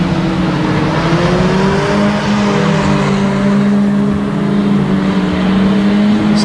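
Unlimited banger racing cars at Kings Lynn on Easter Saturday, a constant loud roar of several engines revving and droning together, with rising and falling pitch and no speech over it.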